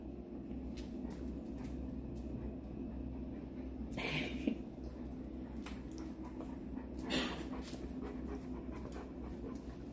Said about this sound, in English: Do you hear the other puppies?